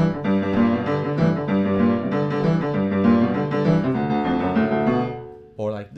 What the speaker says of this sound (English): there was also something called boogie woogie, which sounds like this.